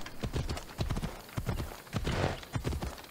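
Horse hooves clip-clop in steady rhythmic bursts in Assassin's Creed Odyssey, close and fairly loud, with brief gaps between runs of steps.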